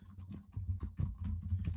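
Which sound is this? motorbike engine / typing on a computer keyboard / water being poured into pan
typing on a computer keyboard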